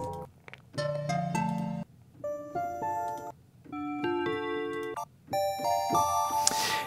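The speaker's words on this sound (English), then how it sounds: "you're gonna have a bunch of really good sounding bell sounds" Bright, bell-like FM synthesizer tones ring out in a series of chords and notes, each with shimmering metallic overtones, clear and close with no talking.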